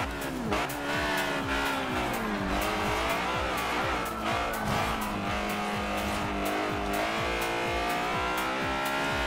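Honda S2000 Fast & Furious Edition in Forza Horizon 2, its high-revving engine screaming steadily through gear changes while tires squeal and skid, loud and continuous throughout without talk.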